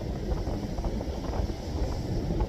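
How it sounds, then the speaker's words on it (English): A full-on westerly wind blows at a rough-ground shore while fishing, a steady loud rumbling buffet across the microphone with no gaps, alone without voices. "It's a full-on westerly wind"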